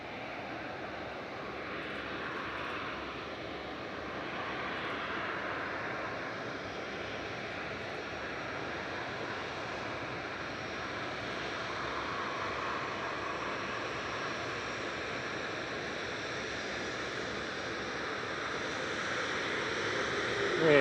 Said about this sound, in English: heading back to Dubai is Emirates Flight 22, A380